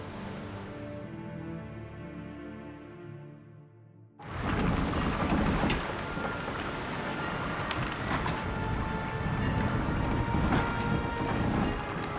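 Deep rumbling wind and rushing water swell in after a quiet stretch with sustained tones, as a sailing boat sets off in The Witcher 3, the roar staying loud and steady to the end.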